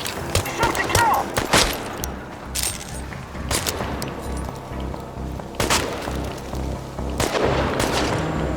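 Gunfire in the Chernobylite video game, scattered loud shots and sharp cracks spaced seconds apart over rumbling ambience, with occasional shouted voices.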